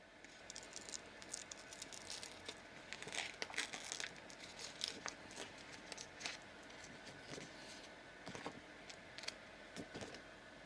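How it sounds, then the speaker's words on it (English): Printed sticker sheet from an xTool M2 or Cricut peeled off its backing, a faint crinkly crackle with scattered sharp ticks and snaps continuing steadily for about ten seconds, no talking. "we should be able to just peel this off."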